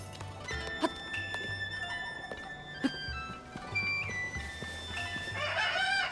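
In Zelda: Tears of the Kingdom, a chicken clucks and squawks in short bursts over soft, repeated game ambience and clip-clop footsteps, fairly faint overall, with a sharper burst of chirps near the end.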